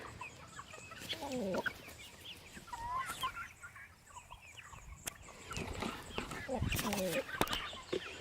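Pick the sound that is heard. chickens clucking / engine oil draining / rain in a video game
chickens clucking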